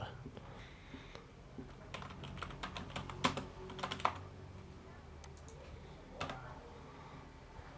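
Computer keyboard typing in irregular bursts of soft clicks, with a few sharper keystrokes, fairly close and moderate in level under faint background hum while a person speaks intermittently.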